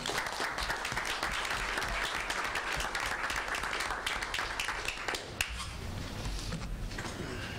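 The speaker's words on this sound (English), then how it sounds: "Give them a round of applause." An audience at a school board meeting applauds, a dense, continuous crackle of many hands clapping, heard somewhat distantly, that thins out toward the end.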